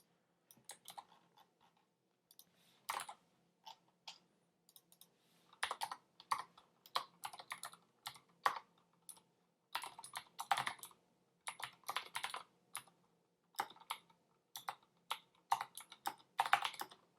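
Clicky computer keyboard typing, heard in irregular close bursts of keystrokes separated by short pauses, fairly quiet with no talking.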